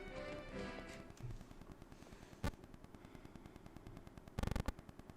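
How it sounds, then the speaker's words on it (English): Kid Icarus: Uprising auto fire plays as a steady stream of rapid, quiet clicking shots. Two louder bursts break through, the second a quick stutter of several hits, all under busy game music. "there's also auto fire"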